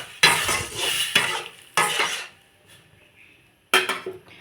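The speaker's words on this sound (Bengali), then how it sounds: "এরকম হওয়ার পরে এই যে ডালটা এটাতে দিয়ে দেবো" Dal tipped into a hot pan and stirred, giving bursts of scraping and sizzling in close, uneven strokes with short quiet gaps between.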